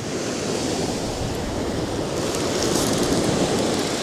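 Steady roar of surf and gusting wind on a beach at Felixstowe Manor Terrace during winter sea fishing, continuous and loud with wind buffeting the microphone and no voices.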